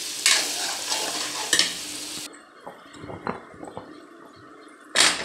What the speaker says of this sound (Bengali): তো এই যে আলুগুলো এখন অনেকক্ষণ কষাবো